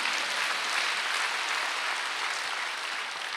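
Steady, dense applause from a church congregation at a Korean Wednesday evening worship service, filling the room evenly with no gaps or voices.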